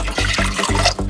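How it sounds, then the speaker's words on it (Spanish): One liter of water is poured into a cooking pot in a kitchen, giving a loud, close, splashing gush broken by a few quick surges. "Agregamos 1 litro de agua."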